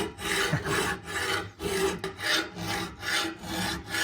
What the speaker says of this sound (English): With even just a few minutes of grinding here, it seems like we're getting quite a bit accomplished here.